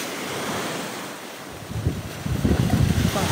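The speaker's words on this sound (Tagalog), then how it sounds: "Kaya yan, medyo alon-alon po dito sa amin sa isla." Sea waves wash against the shore of an island during low-pressure weather, with wind rushing over the microphone and the surf rising into louder, rolling crashes toward the end.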